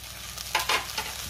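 Okra stir-fry with peanut and sesame-coconut powder stirred in a hot pan, with a low sizzle and a couple of quick, bright scraping strokes in the middle, close and alone.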